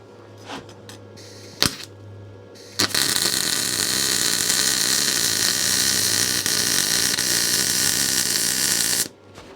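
A SIP synergic MIG welder running on rusty steel: a few short crackling starts, then a loud, continuous buzzing crackle held for about six seconds before cutting off.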